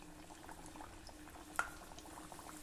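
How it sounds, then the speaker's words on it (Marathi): Methi bajra vadas fry in hot oil over a medium flame, a faint, continuous bubbling sizzle with one brief sharp click partway through. "उरलेले वडे देखील याच पद्धतीने तळून घेऊ।"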